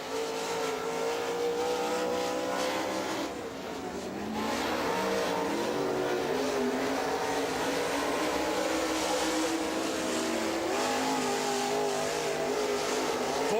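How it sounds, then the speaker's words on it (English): Super late model race car qualifying at Rome Speedway in Georgia, its engine roaring steadily with rising and falling revs as it laps the track, loud and continuous for the whole stretch. "Shane Tankersley, the next car out to qualify"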